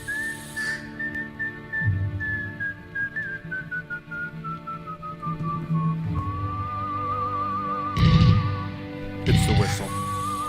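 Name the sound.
whistled melody from a song in Inglourious Basterds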